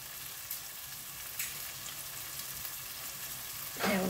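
Onions frying in mustard oil and ghee for vegetable khichuri, a quiet continuous sizzle with a couple of soft clinks and a louder stir or crackle at the end.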